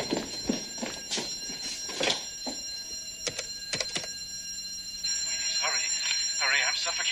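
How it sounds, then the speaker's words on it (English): An alarm bell for a basement storage vault rings continuously, a steady high tone that grows louder near the end, while people talk over it. "That's the alarm bell to the basement storage vault."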